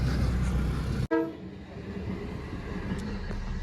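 A train rumbles by close at hand at a railway crossing, a short horn blast sounding once before the low, steady clatter of the wagons carries on.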